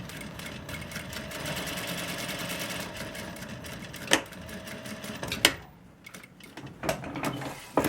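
A sewing machine stitches slowly across zipper teeth while making a zipper bag, a steady mechanical whir that runs close and continuous for several seconds, then breaks into a few sharper clacks and pauses.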